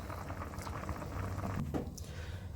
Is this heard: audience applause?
no